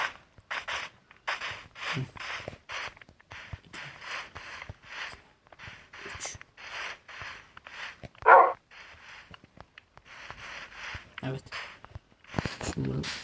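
A dog in the Minecraft video game gives a single short bark. It sounds amid clicking game mechanics and frequent talking.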